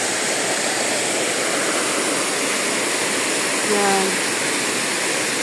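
Water pours down the Lohas Park waterfalls in a constant, loud, broadband roar, close by, with a brief spoken word rising over it near the end.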